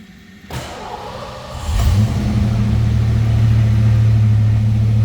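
Cold start of a 1986 Ford Mustang GT convertible V8: a starter whir, then the engine catches loudly and settles into a steady, rumbling idle close by, with no one talking.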